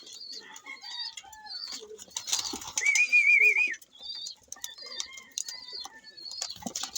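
Racing pigeons in a loft making soft cooing and chirping calls, scattered short notes with one clearer warbling call in the middle, alongside faint shuffling and light knocks, fairly quiet and close.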